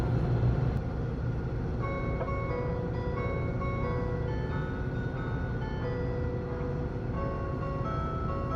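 A Super Hakuto limited express runs on the Sanyo Main Line near Himeji, giving a steady, loud rumble of train running noise with faint tonal whines that fade in and out above it. No one speaks.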